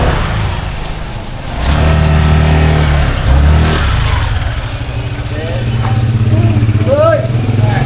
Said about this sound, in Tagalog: Ay, tabi kayo, may sasakyan.